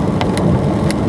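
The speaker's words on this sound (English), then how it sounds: "Rainy night," Steady rain at night heard from inside a moving Buick Regal Turbo on a windy road, a dense wash of patter over low road rumble, with a few faint ticks.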